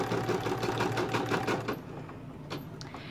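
An embroidery machine stitches a design in a hoop, with matching top and bobbin thread, giving a steady close mechanical whir and rapid needle chatter that eases slightly toward the end.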